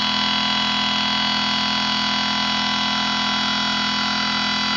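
A BLDC motor spins steadily at about 2,400 RPM, a constant loud tonal hum with stable harmonics and no change in pitch or level throughout.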